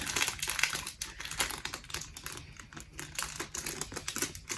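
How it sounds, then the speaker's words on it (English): Plastic packaging on newly bought craft items crinkles continuously and close by, a dense crackling rustle with no pauses and no talk. "Sorry for the crinkling."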